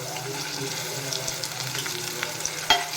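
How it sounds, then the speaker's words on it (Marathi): Finely chopped whole tomato frying in a pan with onion and garlic gives a soft, steady sizzle, close and fairly quiet, with a brief clink near the end. "त्यामध्ये मी टाकते हा टॅमॅटो बारीक चिरलेला अख्खा टॅमॅटो"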